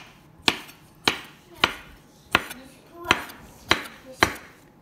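A knife chops ham and other ingredients for an Olivier salad on a cutting board, delivering eight sharp, evenly spaced close thwacks with soft scraping between them.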